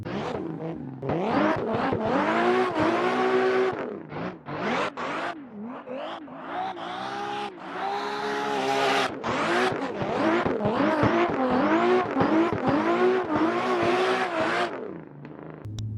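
Engine revving hard and rising and falling in pitch during a sustained car drift in Assetto Corsa, loud and continuous with tire noise, with no talking.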